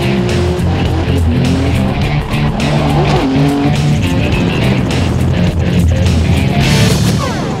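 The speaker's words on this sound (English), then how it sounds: "The GTR dashed up this winding 8-kilometer road at mind-boggling" A Nissan GT-R races hard up the winding Hakone Turnpike hill climb, its engine roaring loud and close with rising and falling revs through gear changes, plus tire squeal through the bends, with no voices throughout.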